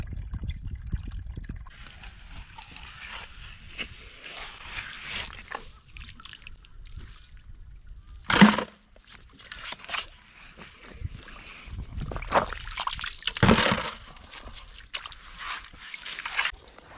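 A small outdoor waterfall trickles into a deep hole at a gravel digging spot in the Crater of Diamonds, a faint steady splash broken by a few louder, brief bursts of water.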